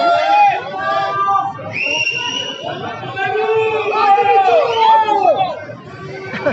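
Outdoor protest gathering in Toulon: a dense crowd chatters and yells continuously, with raised voices and shouts rising out of the steady babble, close and loud throughout.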